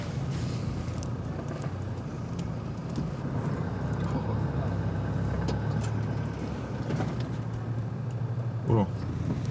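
A car drives off-road across a muddy field in Luxembourg, its engine a low steady drone with bumps and rattles, while people talk throughout.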